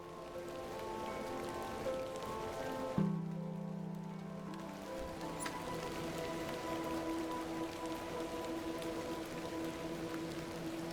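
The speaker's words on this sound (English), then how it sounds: "A little rain is no bother." Rain falls steadily in the point-and-click game The Excavation of Hob's Barrow, a constant soft patter on surfaces under a low droning tone that shifts once early on.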